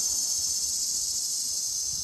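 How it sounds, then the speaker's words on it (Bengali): Crickets chirp in a continuous, high, even trill with no pauses, fairly faint against a quiet background. "ও ঝিঝি পোকা"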